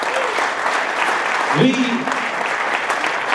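Audience applause at a radio awards ceremony, a steady wash of clapping throughout with a voice briefly speaking over it midway.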